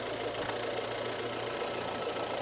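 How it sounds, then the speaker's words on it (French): A Fiat / Alfa Romeo T-Jet petrol engine idles steadily with a low, even rumble and faint mechanical ticking, heard close up with no talking. "on a le moteur qui tourne."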